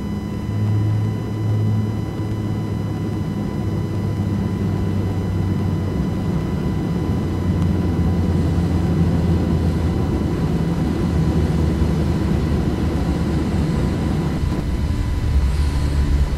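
A simulated airplane engine drones steadily in flight in X-Plane 11, a low continuous rumble with a faint whine above it, kept at reduced volume and unbroken for the whole stretch.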